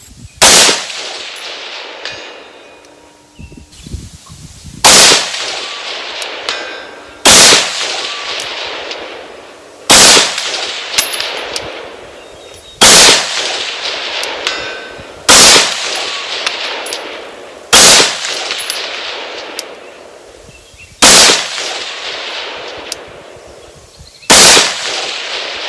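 Gunshots ring out from a handgun being test-fired with a Viridian laser sight. Eight loud, sharp reports come at an even pace about every two and a half to three seconds, each followed by a ringing decay outdoors.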